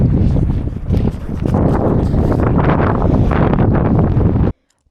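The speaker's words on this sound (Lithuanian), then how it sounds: "šoninis vėjas pučia" Strong side wind buffets the microphone on a kayak crossing of the Baltic states, loud, gusty, low-heavy roaring for over four seconds before cutting off abruptly.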